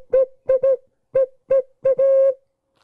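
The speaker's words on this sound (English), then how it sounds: "I got a Woodhaven owl call. This is a real soft call. It's not loud." A Woodhaven owl call blown by a turkey hunter in the Alabama woods gives a soft hooting sequence of short, rhythmic notes ending in a longer drawn-out hoot, heard close and alone.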